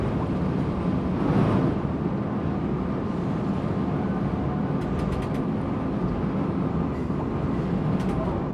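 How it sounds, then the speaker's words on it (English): Trams run in the city-building game Cities Skylines 2, giving a steady mechanical rail rumble with brief clicking rattles, a continuous loud wash with no talk. "There's our trams."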